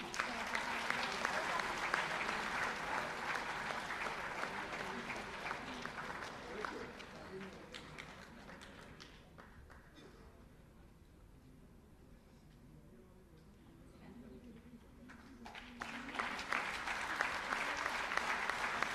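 An audience claps at a felicitation ceremony for completed school toilet construction. The applause is loud at first, fades to a quieter stretch in the middle with some sound under it, then swells again toward the end.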